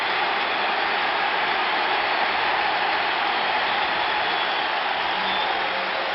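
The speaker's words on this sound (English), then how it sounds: "And the crowd is coming alive." A broad, steady roar from a football stadium crowd at the 1973 NFC Championship between the Vikings and Cowboys in Dallas, a constant wash of distant cheering and noise with no distinct voices standing out.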